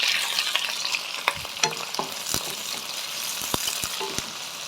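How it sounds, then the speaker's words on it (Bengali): Onion, red chilli and dried shrimp powder sizzle steadily in a hot pan, with a spoon scraping and clicking against the metal several times, close and alone. "পেঁয়াজ আর লঙ্কাটা আমি একটু সুন্দর করে একটু ভেজে নিব"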